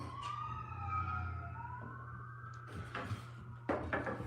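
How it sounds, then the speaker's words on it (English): An ambulance siren passes outside during cabinet trimming work, its wailing tone sweeping up and down at moderate distance over a steady low hum, followed by a few knocks and clunks nearby. "Ambulance just went by"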